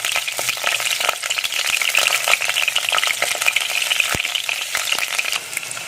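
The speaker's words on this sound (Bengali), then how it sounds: "এই তেলের মধ্যে আমি আগে ডিমটা ভেজে নেবো" Eggs fry in hot oil in a kadai with a little turmeric sprinkled over them, a steady close sizzle with scattered clinks and stirring scrapes throughout, no voices.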